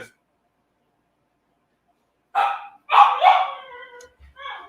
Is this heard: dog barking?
yes